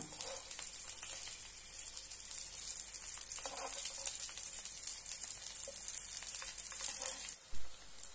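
Eggplant frying in a pan, a steady bright crackling sizzle that holds close and even for several seconds before a brief clunk near the end.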